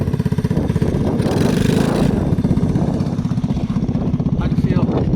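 A mini bike engine running wide open on the Bonneville Salt Flats, a loud close throbbing buzz that surges and holds, with people talking over it at times.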